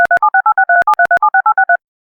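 Telephone dialing for a sports radio phone interview: a quick run of about a dozen clipped, loud DTMF touch-tone beeps in steady rhythm, alone with no talking, then silence.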